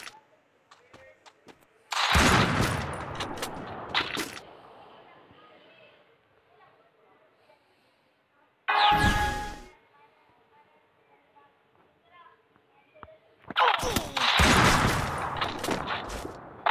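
MP40 submachine gun fire in the Free Fire battle game, three loud bursts of rapid shots separated by quieter stretches with faint background sound.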